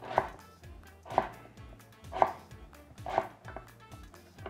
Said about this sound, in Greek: Και στη συνέχεια τα μπαστούνάκια αυτά θα τα κόψουμε σε κυβάκια